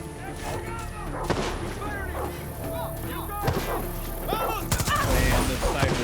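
Sniper and other gunfire in the video game Far Cry 6, repeated sharp shots and thuds over constant battle noise, with voices talking and calling out throughout.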